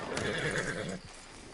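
A horse in Red Dead Redemption 2 gives a short, loud whinny with clip-clopping hooves beneath it, cutting off after about a second.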